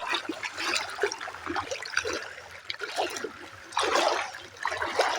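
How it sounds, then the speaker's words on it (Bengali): Floodwater rushes along a village road past houses and gates, a steady gushing and trickling flow heard up close with fluctuating intensity. "বাড়িগুলোর কাছে একবারে পুরো জলের রেস যাচ্ছে"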